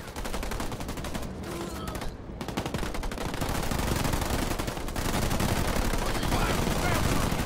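Dense, loud gunfire from units in the real-time strategy game Halo Wars 2, with continuous rapid automatic bursts and explosive cracks filling the mix throughout.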